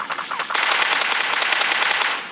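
Rapid automatic gunfire from the video game PUBG, a loud sustained burst of shots with no talk.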